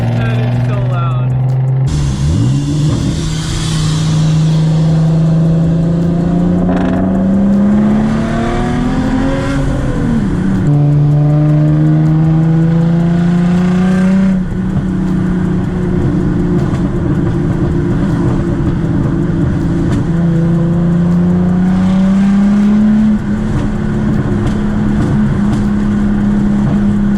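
A Subaru FRS with a straight-pipe exhaust revs loudly and repeatedly, its deep engine note climbing and dropping in several long pulls, very close and dominant throughout.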